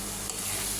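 Spice paste sautéed in a pan makes a steady, dense sizzle that holds evenly throughout this short moment, close and fairly loud, with no voices.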